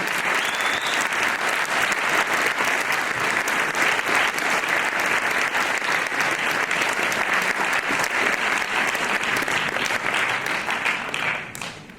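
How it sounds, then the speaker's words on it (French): Sustained applause from an audience at a French regional election campaign meeting in Rennes, steady and dense for about eleven seconds before tapering off at the end. "On peut l'applaudir."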